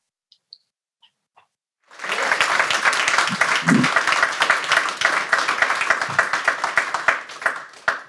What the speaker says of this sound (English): I hope you heard the applause that you were worthy of